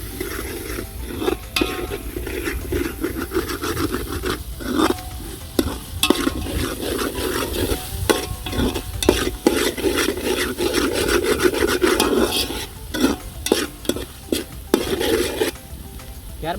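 Torn roti tossed with Kashmiri chili in a hot pan makes continuous, close scraping and rubbing strokes over a constant sizzle, with no talking.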